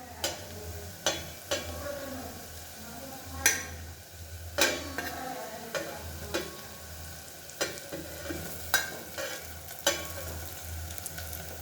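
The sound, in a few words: purslane vegetable (gholachi bhaji) stir-frying in a pan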